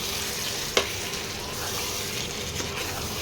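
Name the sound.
stir-frying spiced meat curry (kosha mangsho) in pan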